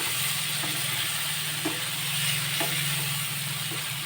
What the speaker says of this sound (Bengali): আলুটাকে ভালো করে কষিয়ে নিতে হবে